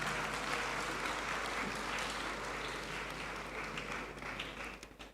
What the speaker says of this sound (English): Please let's give her another round of applause.